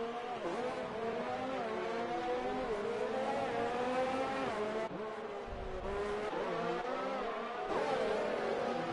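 Formula One cars race around Interlagos at the Brazilian Grand Prix in the F1 2019 game, with high engine whines sweeping up through the gears and dropping under braking, plus bits of tyre squeal.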